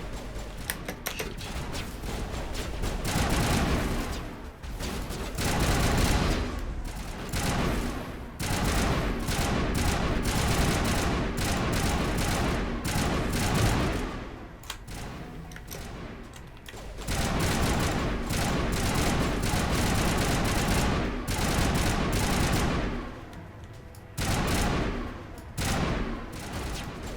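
Sustained bursts of gunfire from the Mass Effect Legendary Edition battle on Eden Prime, dense rapid volleys with short lulls, loud and continuous across the scene.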